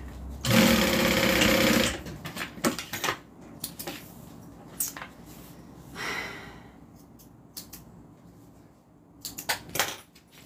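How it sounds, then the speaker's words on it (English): A sewing machine stitches along the side of a fabric bag in a loud burst of rapid mechanical stitching at first, followed by quieter clicks, handling taps and brief whirs, with no voices. "I'm just going to sew along the side."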